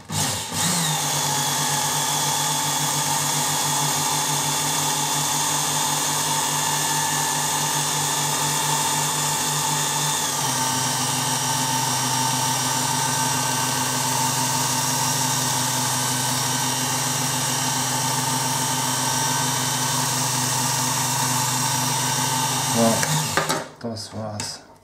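A Work Sharp Ken Onion Edition sharpener runs with a steady motor whine as a knife blade grinds on a fine 12000-grit belt, a loud, continuous tone that shifts pitch midway and cuts off near the end.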